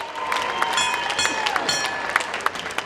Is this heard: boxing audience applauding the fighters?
yes